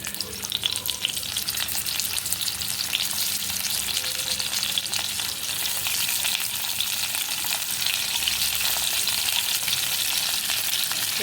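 Steady loud sizzling of stuffed bitter gourd frying in hot oil in a wok, a dense crackling hiss that continues without a break.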